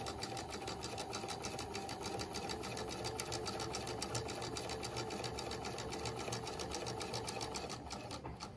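Sewing machine stitching down fabric through one layer of seam allowance near a pinked edge, a continuous close rapid mechanical whirr at an even speed, slowing slightly at the end.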